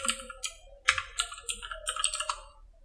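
Close, quiet computer keyboard presses for a Ctrl+I shortcut come as a string of light, irregular clicks with a slightly firmer tap near the start.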